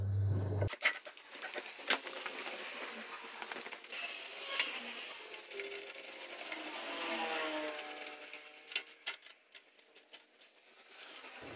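Mechanical ratcheting and clicking from jacking up and tightening suspension parts on a Polaris Sportsman ATV, close and irregular with bursts of clacks and a brief whirring stretch, and no talk.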